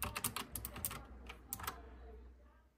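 Keys clatter on a Raspberry Pi 500+ mechanical keyboard in a quick, uneven burst of sharp clicks, close and clear, thinning to a few last presses before fading into a low background hum.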